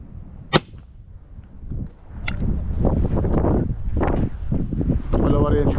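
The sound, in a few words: gunshot while hunting pigeons, wind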